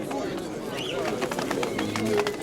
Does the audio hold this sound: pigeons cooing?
yes